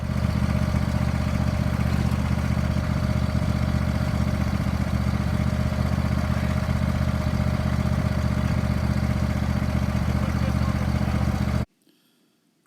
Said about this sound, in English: it is showing us pulling up the muck with a tractor, a lawn tractor